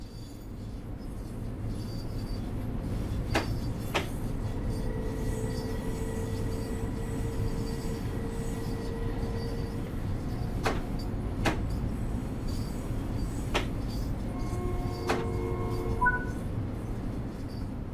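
A Long Island Rail Road commuter train in Train Sim World 4 rumbles steadily along with a low droning motor, punctuated by occasional clicks and faint electronic tones, no voices.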